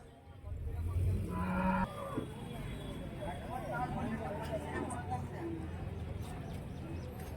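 Cattle low loudly nearby at the start of a cattle market in Karimangalam, Dharmapuri district, India, followed by a busy crowd with overlapping voices and scattered animal calls in the background.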